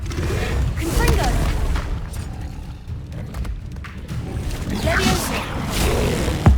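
Confringo fire-blast spell in the Hogwarts Legacy PC game, a booming, roaring explosion with rumbling, crackling debris swelling and fading, then a second surge near the end, under game sound.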